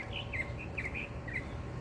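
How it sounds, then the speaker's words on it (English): Birds chirp and sing outdoors in a natural setting, several short bright calls repeating over a steady low ambient hum, moderately near and clear. "And you hear nature and the birds."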